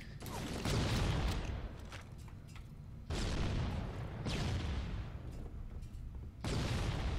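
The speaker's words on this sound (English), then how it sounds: "It's just grenade spamming" Grenade explosions go off in Halo Combat Evolved multiplayer, a dense run of heavy booms and gunfire, with fresh blasts breaking in about every second or two across the match noise.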